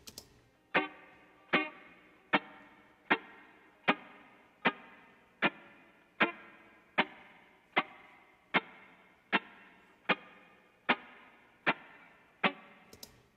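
A short staccato guitar skank loop plays alone for a ska-style beat, about sixteen evenly spaced choppy offbeat strums with clipped, dry decays and a steady rhythm.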